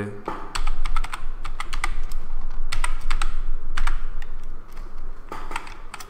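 Keys clatter on a computer keyboard during an animation tutorial, a run of close, crisp taps and quick clusters over a low steady hum, with no speech.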